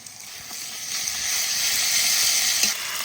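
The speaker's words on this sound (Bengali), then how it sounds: "চট করে পেঁয়াজ একটু ভেজে নিয়েছি, এবার আদা রসুন বাটা দিয়ে দেবো" Ginger garlic paste sizzles loudly as it hits onions frying in hot oil, a steady bright hiss that swells and holds, close by with faint stirring scrapes.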